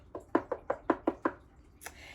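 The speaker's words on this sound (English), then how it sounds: "He knocked on the castle door." Six sharp knocks land on a door in a quick, even rhythm, close and clear. A brief higher scrape or rustle follows just after.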